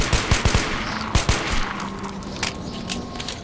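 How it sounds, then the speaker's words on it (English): Gunfire in the Metro first-person shooter video game: a quick burst of sharp, loud shots followed by sparser, softer reports and echoing tails. "a gunshot you can almost feel through your keyboard and mouse"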